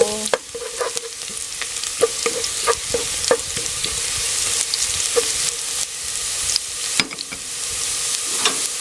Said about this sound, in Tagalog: mainit na itong cooking oil natin. So, lagay natin yung minced garlic. Hintayin lang natin mag-brown itong garlic natin. Lalagay natin yung onion.